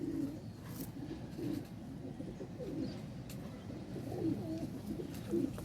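Kodu breed pigeon cooing softly nearby, a low throaty coo repeated about five times at a steady, unhurried rhythm over quiet background noise.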